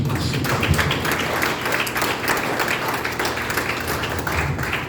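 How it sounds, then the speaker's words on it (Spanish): Applause from a church congregation at an evangelical service in Zulia, steady dense clapping filling the room with no speech over it. "Dale fuerte ese aplauso."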